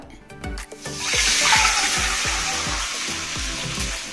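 Two cups of water poured into a wok over a medium flame for poha kesari, preceded by a few clinks, then a steady, close gush and splash that continues to the end.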